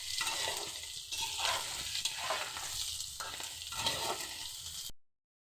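Potatoes frying in oil in a pan for vegetarian aloo dum, a steady close sizzle with periodic stirring scrapes, continuous and without talk.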